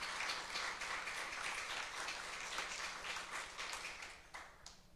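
Church congregation applauding as an offering of praise to God, a dense, steady wash of many hands clapping that fills the room and tapers slightly at the end.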